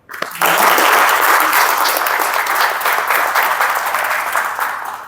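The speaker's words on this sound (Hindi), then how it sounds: "तालियां तो बनती है" A crowd at a Buddhist mindfulness retreat breaks into loud, dense applause that swells quickly after a brief pause and holds steady for several seconds before tapering off.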